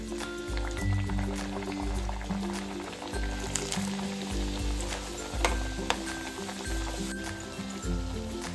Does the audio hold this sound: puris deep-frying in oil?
yes